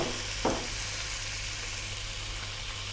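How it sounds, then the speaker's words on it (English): Belly pork sizzling in oil in a wok over medium heat, a steady broadband fry with a brief louder burst near the start as the meat drops in, continuing evenly without speech. "We're going to drop in our belly pork."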